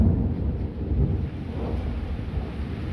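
Low, continuous rumbling of distant thunder from a violent storm to the south, rolling on for several seconds, with a steady wash of rain or wind noise underneath.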